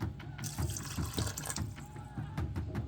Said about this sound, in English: And enough water just to cover everything.